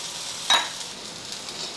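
An instant dosa sizzles and fries on a hot pan with oil, a soft steady hiss throughout and a brief scrape or flip near the start, no voices.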